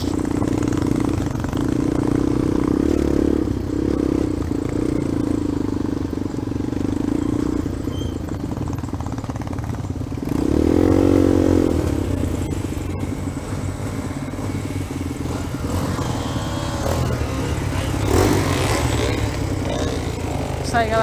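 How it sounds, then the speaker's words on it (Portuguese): A Kazinski CRZ 150 dirt bike engine drones steadily close by on a trail, revving up briefly midway, with a person talking over the running motor. "Essa moto é uma CRZ 150 da Kazinski."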